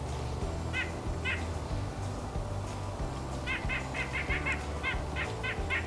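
Nuthatch in winter, mixed in with chickadees and titmice, giving short toy-like nasal calls in repeated clusters over a steady loud low background rumble.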